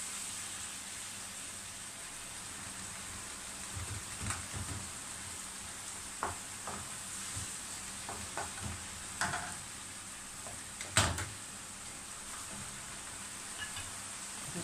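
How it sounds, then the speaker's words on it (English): Salmon pasta with small vegetables and Maggi seasoning powder being stirred in a pan, with a faint, steady sizzle and scattered soft clicks and scrapes of the utensil, quiet and close with no talking. "Just have a little bit like this of Maggi powder. And I'll stir it together."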